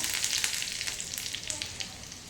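Cumin, two red chillies and curry leaves sizzle in hot oil with mustard seeds for a tempering, a steady close crackle and spit with small pops throughout.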